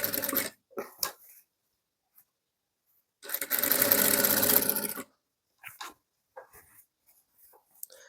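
A sewing machine whirs steadily for about two seconds, stitching a zipper onto a child's cotton boho print dress, with a few brief handling clicks before and after the run.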